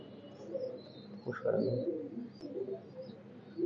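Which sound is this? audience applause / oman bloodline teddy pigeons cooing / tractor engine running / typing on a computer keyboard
oman bloodline teddy pigeons cooing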